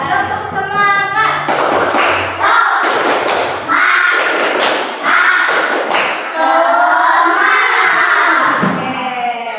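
A classroom group performs a rhythmic spirit clap, loud patterned bursts of clapping and chanting voices in repeated phrases, close and energetic, with a teacher's voice briefly between rounds.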